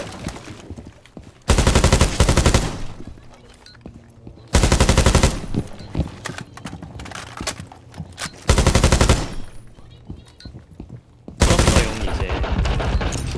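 Automatic gunfire rings out below in a shooting video game, coming in four loud, dense bursts of rapid shots separated by quieter stretches of ambient game noise.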